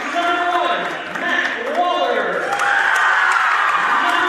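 Crowd at a high school boys' basketball game in a gym cheering and whooping continuously, with a public-address announcer's voice audible over the noise.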